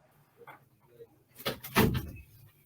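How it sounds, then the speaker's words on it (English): An office door is pushed shut while work goes on outside, giving a short rattle followed by a firmer close-up thud, with faint murmuring voices in the quiet room beforehand. "I'm going to close my door here because we got work going on."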